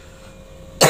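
A single sharp, close cough bursts out at the very end after near silence.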